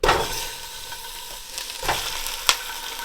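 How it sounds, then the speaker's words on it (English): Loose Italian sausage meat, casings removed and mashed, hits shimmering hot oil for beer chili, crackling and sizzling steadily with an initial loud splash and a few sharp pops, close and alone. "then drop your meat in"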